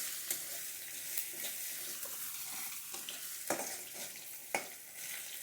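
Coriander and cumin fry in a pan for a Bengali cauliflower and fish curry. A steady close sizzle is broken by occasional sharp clicks and scrapes of stirring, with no voices.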